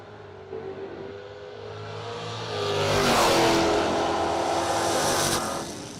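Drag racing cars launch and accelerate hard at the 25th Annual Bernie Mann Memorial No Delay Nationals, engines rising from a rumble to a loud roaring surge that peaks midway and then fades slightly.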